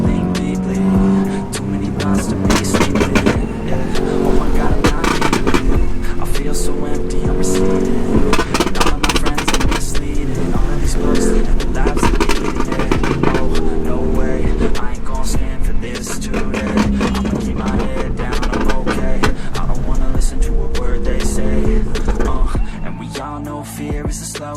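A loud modified Suzuki Swift exhaust roars and revs continuously at a Sunday car meet in Patna, close and dense, with crowd noise and occasional voices mixed underneath.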